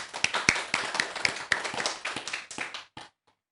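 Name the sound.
applause welcoming a guest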